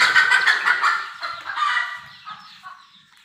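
A hen clucking in a quick series of bright, choppy calls that gradually tail off and soften, close and clear with no talking over it.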